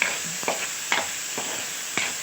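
Ingredients sautéing in a pan until browned, a steady soft sizzle with a few sharp stirring scrapes spaced about half a second apart, close and moderately quiet.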